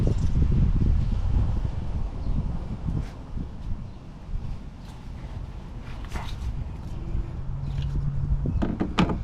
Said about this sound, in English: the wind was blowing too hard. It was blowing all over the place.